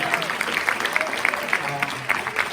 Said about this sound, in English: So give them a round of applause, please.